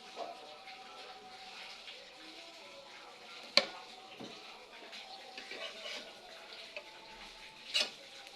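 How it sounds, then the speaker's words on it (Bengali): A paratha fries on a pan in a little oil, giving a soft, steady sizzle and crackle with a couple of sharp pops, heard close and quiet with a voice speaking faintly at times. "এবার আমি এখানে দিয়ে দেব সামান্য একটু তেল।"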